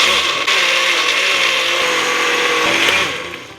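A blender whirs loudly and steadily while blending a chicken marinade with olive oil, holding one continuous high-speed roar before easing off at the very end.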